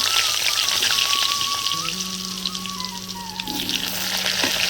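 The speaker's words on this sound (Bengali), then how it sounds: "এবার আমি আলুগুলো লাল করে ভেজে নেব" Potatoes frying in hot oil in a village kitchen, a steady close sizzle and crackle running throughout without pause, with a faint tonal whine drifting above it.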